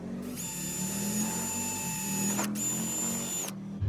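Rivets being set on a standing seam metal roof with a powered tool, giving a steady high motor whine in two close bursts separated by a brief pause, over low outdoor background noise.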